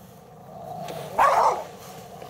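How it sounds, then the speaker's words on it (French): A single dog bark or short yelp rings out briefly in the middle, moderately loud against a quiet hum of background noise, with no talking. "Le chien qu'on entend ne serait-ce pas ce djinn"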